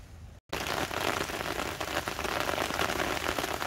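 Steady rain pours down beside a river in Soc Trang, a dense loud hiss of drops on surfaces that starts abruptly after a brief cut and continues unbroken.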